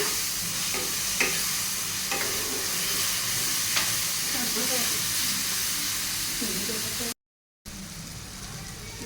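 Garlic paste sizzles in a hot frying pan with a steady crackling hiss, punctuated by a few clinks from stirring, before a brief silent gap and the sizzle resumes.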